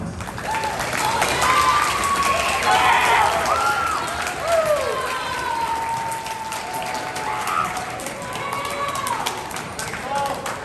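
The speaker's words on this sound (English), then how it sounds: "Let's give yourself a round of applause" Students at a 2021 eighth-grade honors assembly applaud in a loud, continuous burst, with cheering voices and calls rising over the clapping throughout.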